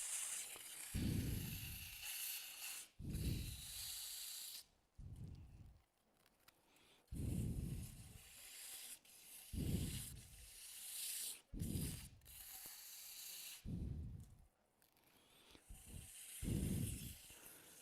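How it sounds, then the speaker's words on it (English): Sandpaper rubs back and forth on a small wooden Christmas ornament, making close, rhythmic rasping strokes about once every two seconds with short pauses between them. "Now, again, you want to sand it."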